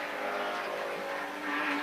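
A BMW race car, number 111, roars past during a club endurance race at Silverstone GP, its engine loud and sustained with a steady high whine, close by throughout.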